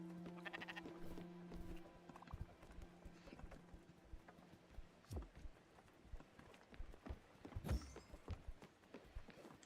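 A sheep in the cozy management video game Spiritfarer bleats among busy game sounds. Soft hoof-like clopping and other animal calls run throughout, with scattered clicks and a brief louder cry near the end.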